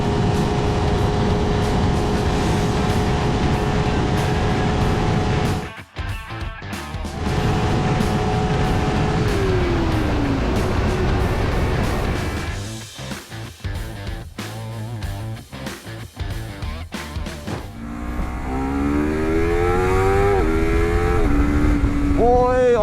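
Honda CBR250RR SP QS sport motorcycle, 2023 model, accelerating hard with quickshifter gear changes, a loud continuous engine drone rising in pitch with brief dips at each shift and a high revving climb near the end.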